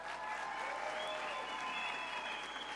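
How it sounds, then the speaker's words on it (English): Steady, even applause from a large audience fills a graduation ceremony hall at Tshwane University of Technology in Pretoria. The clapping is continuous and moderately distant, with no talking over it. "They indeed deserve a warm round of applause."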